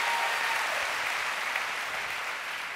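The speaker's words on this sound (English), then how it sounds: "So let's give Neuro a big round of applause" An audience at a hairdressing industry event applauds the Neuro styling tool, dense steady clapping from a large crowd that fades slightly toward the end.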